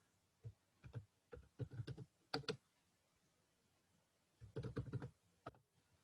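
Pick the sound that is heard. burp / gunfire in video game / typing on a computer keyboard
typing on a computer keyboard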